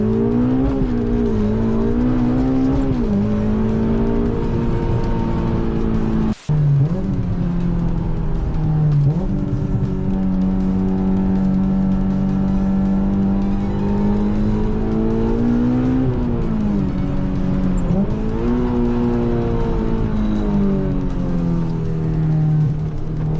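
A Honda S2000 driven hard with its engine revving loud and close throughout, the pitch climbing and falling through gear changes with a brief dropout near the middle and no talking.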